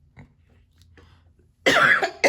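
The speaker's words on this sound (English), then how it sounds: "I felt the cough coming on." A loud, close cough burst followed by a second short cough, after a near-silent stretch with faint small sounds.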